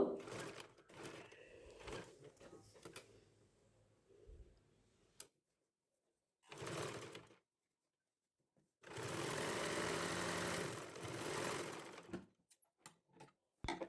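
Sewing machine stitching a square neckline on a garment piece, heard as separate bursts of rapid mechanical stitching at close range with pauses between runs, with talking over the earlier part.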